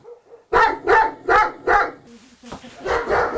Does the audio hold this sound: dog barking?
yes